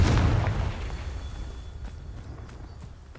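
The Confringo blasting spell going off in Hogwarts Legacy: a single loud, deep explosion at the start that decays into a rumbling tail with a few faint crackles after it.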